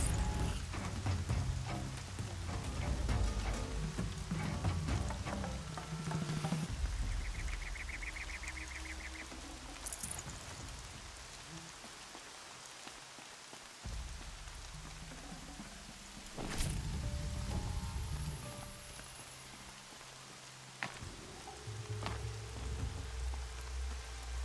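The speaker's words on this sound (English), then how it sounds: "Rain's not so bad." Rain falls in Horizon Zero Dawn with a continuous soft patter on surfaces, joined by scattered drips, brief honk-like wildlife calls and low ambient rumbles rising and fading over a long stretch, no talking.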